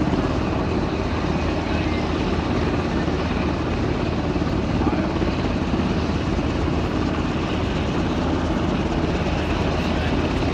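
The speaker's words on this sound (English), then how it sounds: "the MH-53E helicopter deploy its nose landing gear, which got stuck mid-flight" An MH-53E military helicopter in flight with its nose landing gear stuck gives a dense, constant roar of rotor and engine, loud and unbroken, with a voice speaking over it.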